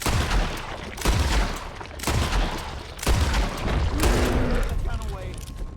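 Shotgun blasts aimed at a bear in the video game Red Dead Redemption 2 come as four sharp, loud reports about a second apart, each trailing into ambient game noise, with a voice talking over them.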